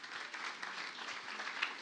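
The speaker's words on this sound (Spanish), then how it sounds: "Fuerte aplauso para Olga" A church congregation applauds a member, a dense, even patter of many hands clapping together for a couple of seconds.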